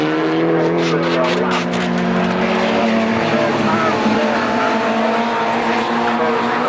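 Race cars lapping Croft circuit during a late stage of the race, a steady loud engine roar with rising and falling pitch from passing cars, while a commentator talks over it.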